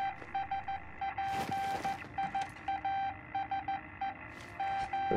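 A Morse code transmission in Call of Duty, on the Caldera map, plays as a steady tone keyed into short and long beeps in an irregular pattern over game background noise.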